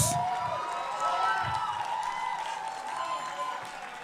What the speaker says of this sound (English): Keep clapping, I'm not ready yet.